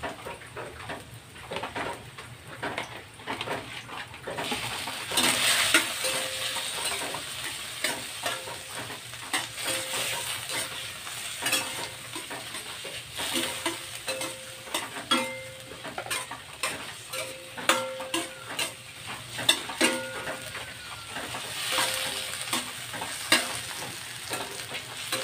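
Shrimp sizzle in a pan for sautéed chayote while a utensil stirs, steady frying hiss punctuated by frequent clicking scrapes against the pan, close and irregular, no voices.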